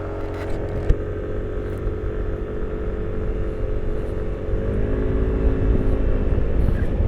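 A Yamaha NMAX 155 scooter cruises with a continuous engine whir and wind rush, its tone rising slightly partway through, with a brief click near the start.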